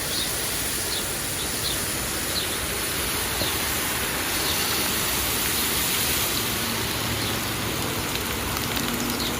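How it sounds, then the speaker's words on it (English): Garden plants drenched with water during summer watering, a dense, steady hiss of spray pattering onto leaves and soil, close and continuous, with faint bird chirps in the background. "drenching everything down with water"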